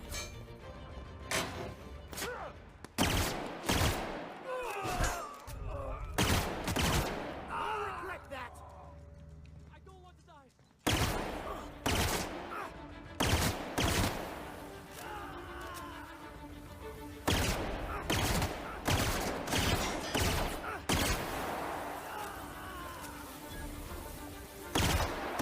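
Gunshots from a weapon in the video game The Outer Worlds, a run of sharp, loud shots with a short break in the middle, mixed with a busy game soundscape and frequent talking over the top.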